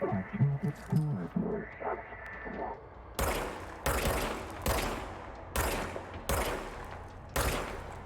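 Gunfire in the video game Control comes as a series of sharp, loud shots at irregular intervals. Quieter in-game sounds come before the first shot.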